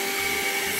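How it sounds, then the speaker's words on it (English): A vacuum cleaner runs close by with a steady, loud, unbroken whine and hum, alone without any talking, during a short moment at home while a dog is nearby. "Look, I'm vacuuming myself."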